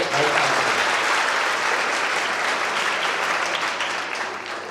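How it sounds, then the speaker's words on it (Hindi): Students at a school career guidance seminar give loud, sustained applause, a thick wash of clapping that holds strong before tapering off over the last second or so. "जोरदार तालियां हमारे भाई साहब।"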